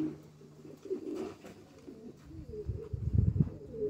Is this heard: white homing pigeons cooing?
yes